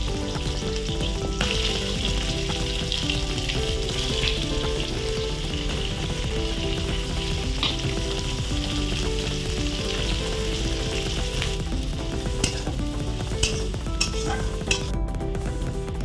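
Onions with whole spices, green chillies and bay leaf fry in oil for a prawn and potato curry in coconut milk, a loud steady sizzle with a few metallic utensil clinks toward the end, while background music plays throughout.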